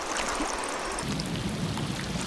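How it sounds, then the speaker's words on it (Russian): Steady rain patters densely on surfaces, with a low rumble of thunder building underneath in the second half. "Пошел дождь, вовсю гремит."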